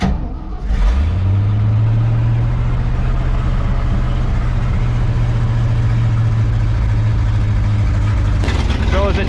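A Ford F600 truck engine cranks and catches, then settles into a loud, steady low idle with no throttle for about eight seconds before a sharp cut and shuffling noise at the end.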